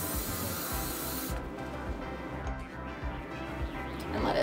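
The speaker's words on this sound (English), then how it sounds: "And then I will spray with hairspray." Hairspray hisses from an aerosol can in one steady, close spray that cuts off partway through, with low handling noise continuing after.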